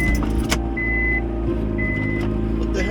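A car's engine runs steadily again after an idle problem on a wagon being readied for a JDM ZC engine swap, a close, even low rumble with a couple of brief chime beeps over it.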